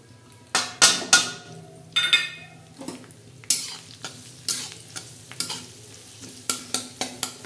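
Curry leaves and cumin crackle in hot oil in an old, heavy kadhai, with bursts of sizzling and spitting alongside repeated scrapes and clinks of a spoon stirring against the metal pan.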